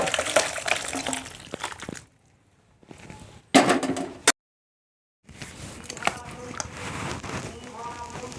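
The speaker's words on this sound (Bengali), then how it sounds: "গরম মশলাটা দেওয়ার সাথে তরকারিটা ঢেলে নিচ্ছে" Country chicken curry with hot spices pours out in short bursts of wet liquid splashing, broken by silent gaps, with someone talking close by.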